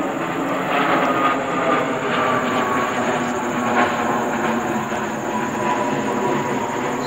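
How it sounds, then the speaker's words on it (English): An airplane passes overhead in Pelham Bay Park in the Bronx, a steady broadband roar holding at a constant loudness throughout, with no talk over it. "Let that plane pass overhead."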